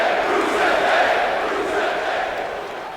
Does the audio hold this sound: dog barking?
no